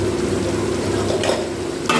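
Potatoes frying in oil in a pan while an egg curry is made, a dense steady sizzle with a few stirring scrapes near the end, close and loud.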